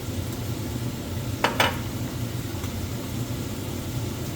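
Onions, green chilies and curry leaves fry in oil in a pan, a steady sizzling hiss throughout, briefly broken by a couple of sharp clinks from a utensil against the pan.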